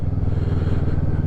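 Kawasaki Vulcan 650S motorcycle engine held at high revs, a steady, loud, continuous drone with a rumbling low pulse, close by and alone without talk.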